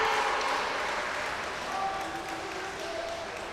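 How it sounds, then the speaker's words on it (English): Crowd at a college swimming meet between Bucknell and Army cheers and applauds in a large echoing natatorium, a steady wash of noise with faint whistles and voices. "The crowd gets into it."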